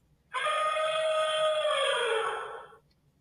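A single long elephant trumpet from an adult bull near a lake, one sustained brassy blare lasting a couple of seconds, loud and alone.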